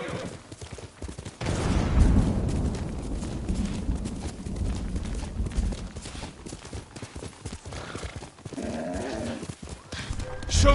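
Horse hooves clip-clop steadily in the video game Ghost of Tsushima, loud and close, with a busy game soundscape and a voice talking over it.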